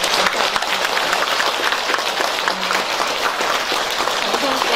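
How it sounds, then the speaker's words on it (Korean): An audience claps throughout at a Korean Buddhist book publication celebration at Donghaksa temple, a dense, steady wash of applause with a few sharper individual claps and faint voices beneath. "여러분 큰 박수로 부탁드립니다"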